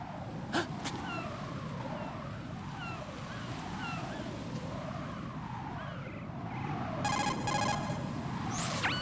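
Metal Gear Solid 2 cell phone ringing: a bright, pulsing electronic ring enters near the end over a steady rolling wash of ambient game background, with no talk.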